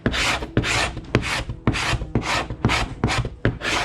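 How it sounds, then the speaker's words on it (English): Carbide hand scraper rasping grease and loose paint off a boat's bilge surface, about eight rough back-and-forth strokes in steady rhythm, close and fairly loud, with no talk. "First thing I do is come in with this carbide scraper. You can see the grease coming off and any loose paint at the same time."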